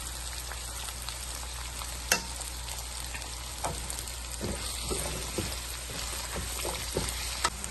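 Potatoes sauté with onions and turmeric in a pan, a steady sizzle and crackle with occasional stirring scrapes and clinks, close and moderately quiet, no talking.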